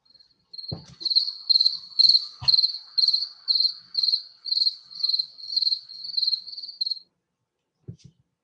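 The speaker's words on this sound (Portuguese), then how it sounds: "Já botei uma sonoplastia aqui para... Um grilo" A cricket chirping sound effect played during a class, a rapid run of about a dozen regular high chirps lasting several seconds before stopping, with a few soft knocks.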